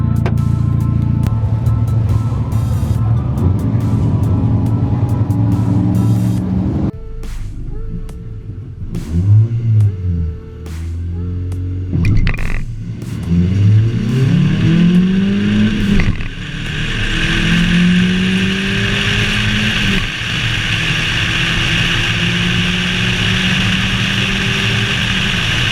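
A drag car launches at the strip, its engine roaring loud and close with a rising, revving note that swells through repeated surges and pulls, then settles into a sustained high whine as it accelerates away.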